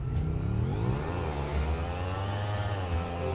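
A motorcycle in GTA 5 launches from a standstill and revs hard, its engine note rising and sweeping upward in pitch, loud and continuous with a low rumble underneath.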